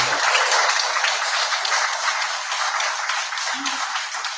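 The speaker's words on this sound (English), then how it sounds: "Can we give another round of applause to the President?" A crowd applauds the President at an evening event, a dense, steady wash of clapping that holds at even loudness throughout with no voices over it.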